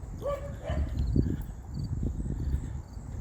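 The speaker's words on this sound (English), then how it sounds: "the dog that was out in the backyard a couple of days ago is now up in the window barking at me" A small dog barks a few times from up in a house window, fairly distant and soft, over quiet outdoor neighborhood background.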